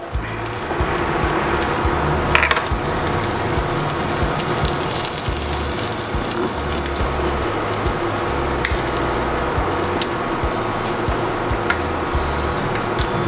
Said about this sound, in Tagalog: Lagay natin ang ating garlic.